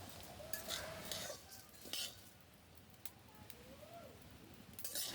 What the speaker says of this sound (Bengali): কন্টিনিউ এইভাবে নাড়তে হবে হাতাটা